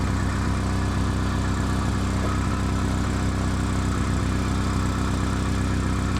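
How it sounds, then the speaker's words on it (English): A Honda DC2 with a Tanabe Hyper Medallion exhaust idles with a leak at a stamped steel flange, giving a steady, loud, even rumble close to the microphone with no talk. "Wouldn't you know it? We still have an exhaust leak."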